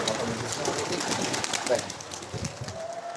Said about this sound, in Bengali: এই কবুতরটা কবুতর হ্যাঁ একটু দেখো আমার আর একটা নতুন মেহমান চলে আসছে